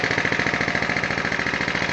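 A motor tiller engine runs with its tines turning, a loud, steady pulsing chug with a rapid regular beat and rattling mechanical texture, heard close and alone.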